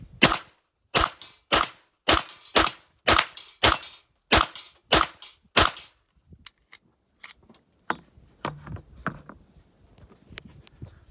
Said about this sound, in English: But let's load this thing up. shoot a couple rounds.